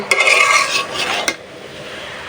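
A spoon scrapes and stirs through a pot of raw jackfruit curry cooked with dried chepa fish, a brief wet clatter and shuffle followed by a soft knock, close by with no talking.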